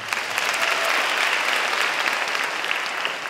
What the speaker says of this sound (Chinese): 好，让我们再给他一个掌声，好不好？